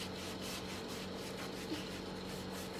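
Black furniture wax is rubbed hard into the corners of a wooden piece, giving a continuous scratchy scrubbing sound heard up close, even and unbroken.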